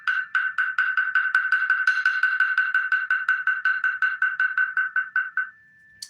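A Zen wooden bell is struck with a mallet in a steady, even series of about twenty crisp, hollow knocks, close and clear against silence, ending with one last faint tap.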